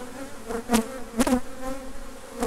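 Angry honeybees buzzing steadily close by as their hive is moved before winter, a dense droning hum with a few sharper swells as individual bees pass near.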